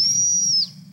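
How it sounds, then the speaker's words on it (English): A person gives one loud, steady high-pitched whistle during an outdoor bike-riding session, held for about half a second before it drops and cuts off, with a low rumble of background noise underneath. "I'll give a good whistle on that one."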